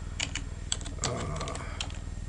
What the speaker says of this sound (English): As you start to type in the name,